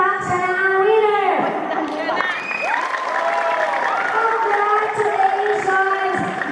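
Loud applause for the winner at a birthday party, crowd clapping and chatter under prominent singing or talking voices, sustained for several seconds.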